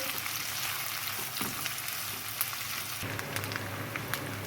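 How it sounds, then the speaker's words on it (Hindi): Chopped onions fry in hot oil for chicken biryani, a continuous dense crackling sizzle heard up close with scattered small pops. "ऑयल गरम हो गया है, अब हम इसमें प्याज डाल दें। प्याज को फ्राई कर लें अच्छे से।"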